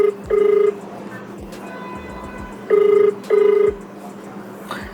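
An outgoing telephone call rings back, playing repeated paired electronic tones, each a short steady beep separated by quiet line hiss.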